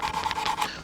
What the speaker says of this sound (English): So I'm just sanding this back just a touch, and I'm currently on 320.